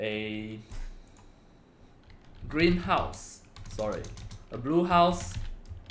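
Computer keyboard keys click in short bursts as a prompt is typed, faint and intermittent, interleaved with a person speaking.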